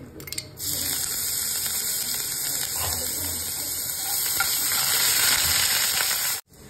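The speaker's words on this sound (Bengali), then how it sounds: "আমার ঘি গরম হয়ে গেছে, তার মধ্যে আমি একটু জিরা ফোড়ন দিচ্ছি" Cumin seeds and ginger paste sizzle loudly in hot ghee, a dense, steady crackling hiss that starts abruptly and runs evenly for about six seconds before cutting off.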